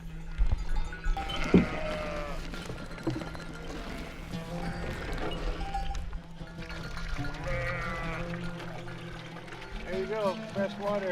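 A flock of sheep and goats bleats repeatedly, several calls overlapping near and far, while water pours and trickles for them to drink; a person talks over parts of it.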